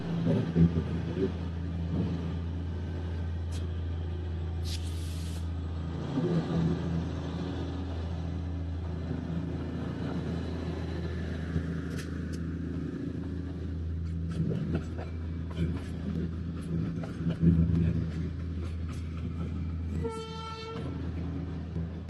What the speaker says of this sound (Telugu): There comes the train.